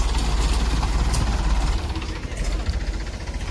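A tractor engine idles with a loud, low rumble while sand is unloaded; the steady throb eases slightly partway through, and voices can be heard faintly alongside it.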